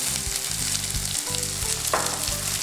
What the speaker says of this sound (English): And then you're gonna stir fry it.